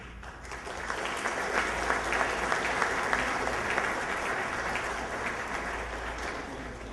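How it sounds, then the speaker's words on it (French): Sustained audience applause at a business development conference in Haiti, a dense, steady wash of many hands clapping that fills the whole stretch at an even, moderate level with no talk over it. "Merci de les applaudir."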